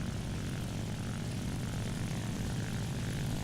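IL-2 ground attack aircraft in a low-level flight game, its propeller engine droning steadily and loudly throughout with a constant throbbing rumble.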